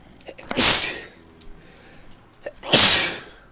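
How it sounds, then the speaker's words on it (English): Two loud, forceful human sneezes burst out about two seconds apart, each a sharp breathy explosion, with only faint background noise between them. "Sorry for the sneezing."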